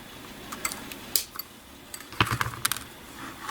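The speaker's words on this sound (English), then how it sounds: "I'm going to cut this." Thick wire for a glass marble button being snipped with pliers, a few sharp metallic clicks and small clatters, close and fairly quiet, with no talking.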